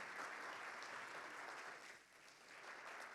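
Applause fills a room at a Lawyer's Day event in Brazil, a dense steady patter of many hands clapping at moderate distance that dips briefly and swells again.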